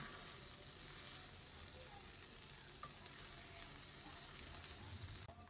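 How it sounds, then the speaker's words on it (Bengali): Shing fish roe frying in a pan gives a soft, steady sizzle with light crackle and a few faint stirring ticks, quiet and unbroken by speech. "এই যে ভাজা ভাজা হচ্ছে"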